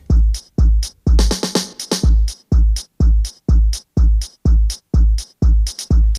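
A punchy beat loops steadily: deep bass thumps on each beat with crisp snare hits and a busy shaker rattle layered over them, loud and alone.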